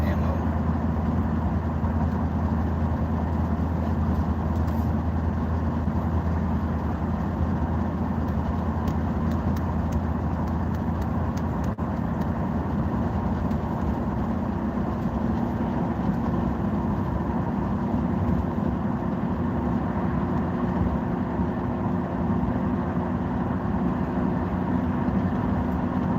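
A car engine drones steadily while driving at an easy pace, a constant low rumble with road noise throughout, and a voice occasionally speaks over it.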